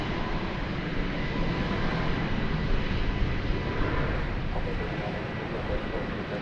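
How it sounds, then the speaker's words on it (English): Airbus A321neo airliner rolling down the runway on its takeoff run at DFW Airport, a steady broadband engine roar heard from a distance, continuous and even throughout. "an Airbus A321neo, there you see it, is rolling down the runway now"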